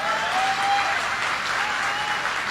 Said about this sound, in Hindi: इसके बारे में ताली नहीं हो सकी जोरदार एक?